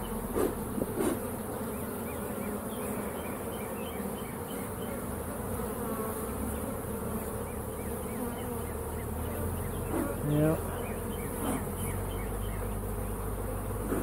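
Dense, steady buzzing of many honey bees swarming together inside a hive, continuous and close, with occasional faint clicks and knocks.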